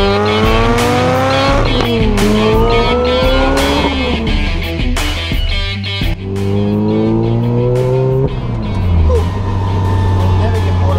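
A Lotus Exige S engine roars loud and close, rising through repeated gear changes with the whine of straight-cut third and fourth gears riding over the engine note.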